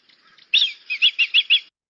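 A Nigerian bird sings a short recorded phrase: faint opening notes followed by five loud, evenly spaced chirps in a quick rhythm, clear and close with no background noise.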